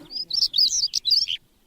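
Several hungry sparrows chirp in a quick, bright burst of overlapping tweets for just over a second, then fall silent, with no talking.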